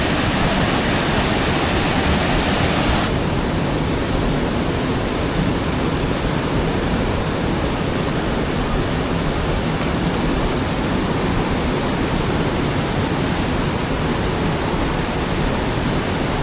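A hidden forest waterfall in Barito Utara, Central Kalimantan, pours in a steady, loud broadband roar that runs unbroken throughout, with no voices over it.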